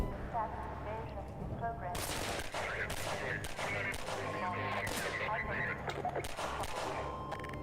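Rapid bursts of video game gunfire crack repeatedly, loud and close, in several volleys across the clip, with a voice heard among the shots.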